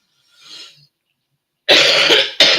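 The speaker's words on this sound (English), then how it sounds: "that's the smoker's cough" A smoker's cough: a soft breathy exhale, then after a pause two harsh, loud, rasping coughs in close succession, the first longer than the second, up close with no talking.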